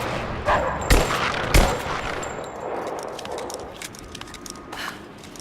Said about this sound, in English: I can't hit shit with this pistol